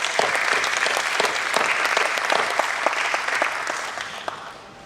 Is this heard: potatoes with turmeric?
no